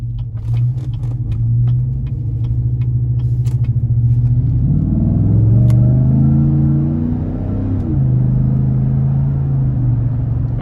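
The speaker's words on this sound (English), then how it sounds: "go ahead and take this 2017 Yukon Denali out on the road for a quick test drive" A tuned 2017 GMC Yukon Denali with its 6.2 liter V8 drives on the road, its steady engine rumble climbing into a strong revving surge mid-run before settling back to a cruising drone, loud and close throughout.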